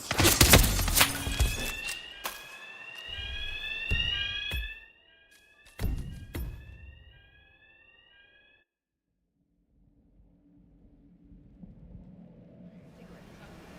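An alarm in the video game Hitman 3 sounds as rising, warbling tones over loud bursts of gunfire, then cuts out, leaving near silence and a faint low hum.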